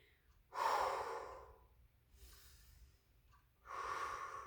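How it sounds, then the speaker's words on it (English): Deep, heavy breaths during an exercise class, two long loud exhales separated by a quieter breath, close to the mic with no other voices. "Breathing deeply."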